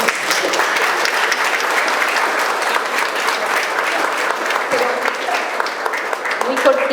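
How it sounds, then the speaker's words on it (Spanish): Sustained, dense applause from the audience at a round-table event on radical Chilean women artists, with many hands clapping loudly and steadily for the whole stretch and no break. "un aplauso para ellas"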